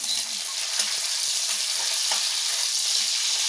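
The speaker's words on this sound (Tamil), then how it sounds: "இந்த மாதிரிங்க நல்லா வதக்கி விட்டுக்கோங்க" Onions and green chilies frying and sizzling in a pan for a village-style fish curry, a steady close hiss with occasional stirring scrapes throughout, no talking.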